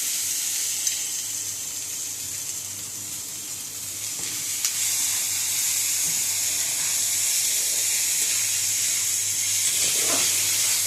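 Taro stolons (kochur loti) sizzle steadily in a hot pan, a loud broadband hiss that swells a little louder partway through, with a few faint stirring scrapes and no talking.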